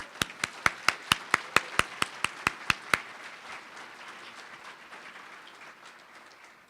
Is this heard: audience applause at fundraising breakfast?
yes